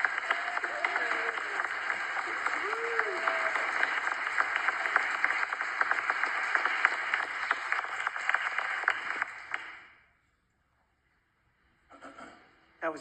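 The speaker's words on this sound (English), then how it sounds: "Can we please give a round of applause to the Sacramento Women's Chorus?" An audience at a ceremony applauds the Sacramento Women's Chorus with dense, steady clapping that carries for about ten seconds and then fades out to near silence.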